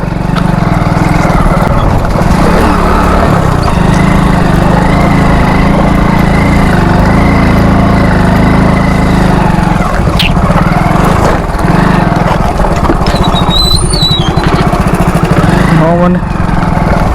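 A Hero Splendor motorbike engine chugs loudly and steadily on a rough unpaved hill track, with rattling and bumps, close to the listener.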